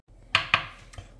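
A knife chops onion, not too finely: two sharp close cuts in quick succession, then a softer third strike after a short pause, with no talking.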